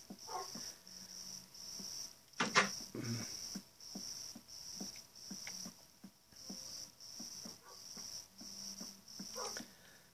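Two tamed Minecraft dogs in a bedroom of a player's house pant and whine in a steady, close rhythmic pattern, with one brief louder burst and a constant thin high tone behind them.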